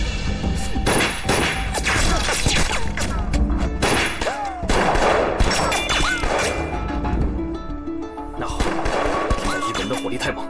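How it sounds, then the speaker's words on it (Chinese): Heavy gunfire in a Chinese wartime TV drama breaks out in repeated loud bursts and volleys, mixed with thuds and crashes, continuing with little pause. "火力太猛"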